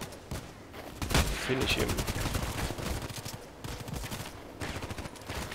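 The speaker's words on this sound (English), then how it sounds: "Let's do one more shot to the VIP guy" Rapid rifle fire from a sniper game mission against a VIP target, crackling in dense repeated bursts across the whole stretch, with someone briefly speaking over the shots.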